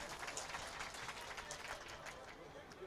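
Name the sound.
audience clapping at mushaira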